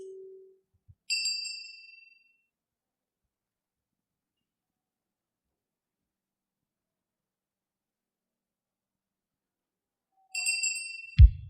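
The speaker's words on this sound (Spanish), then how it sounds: "vamos a terminar la reunión con un toque de campana" A bell rung to close a meeting gives two clear metallic dings about nine seconds apart, each ringing out briefly in near silence.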